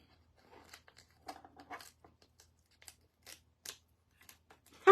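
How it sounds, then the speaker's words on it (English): Clear tape is peeled back off a painted wooden craft sign, giving quiet, intermittent crinkling and tearing rasps in short bursts, with a sharper crackle at the end. "And then we pick up the tape, the clear tape, and pull it back."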